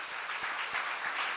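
Applause from a church seminar audience, a steady broadband wash of many hands clapping at once, fairly soft and without any talk.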